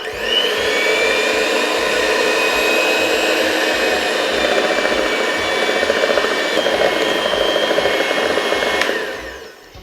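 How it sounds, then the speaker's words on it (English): An electric hand mixer beats chocolate cake batter in a bowl with a loud, continuous whirring whine that holds steady for about ten seconds before trailing off at the end; no voices. "And I'm going to use the mixer, my hand mixer."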